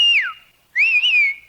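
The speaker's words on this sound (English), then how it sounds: "Now, whistle for that bus." A person whistles loudly and close by to hail a bus: two sharp notes, the first sliding downward, then after a short gap a longer wavering one, with no talk.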